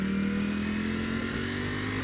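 Ducati Panigale V4 Speciale engine idling while stopped in gear with the clutch pulled in, rear cylinders shut down: a steady, close, fairly loud low hum with a constant pitch and no revving.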